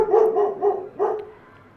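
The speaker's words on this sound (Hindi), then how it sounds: "मगर कुत्ता और पास आकर भौंकने लगा।" A dog barks several times in quick succession, loud and close, then the barking stops and only a faint background hum remains.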